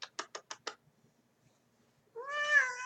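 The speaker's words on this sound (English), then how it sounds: "She's a meower." A pet cat meows once, a clear drawn-out call close by, after a short run of soft tapping clicks and a quiet pause.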